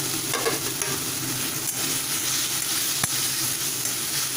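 Chili paste frying in oil in a pan for an egg curry, a steady close sizzle with a faint stirring scrape now and then, no talking.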